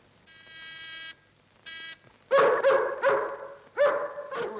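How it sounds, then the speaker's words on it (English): A buzzer sounds twice, then a dog breaks into a run of loud, sharp barks, five or six in quick succession, close and clear, from a 1944 Sherlock Holmes mystery film. "Don't like the sound of that dog."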